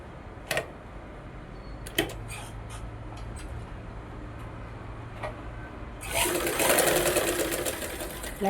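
Close-up sewing machine stitching a blouse lining: a few sharp clicks and taps of fabric handling, then a quick burst of steady mechanical whirring near the end.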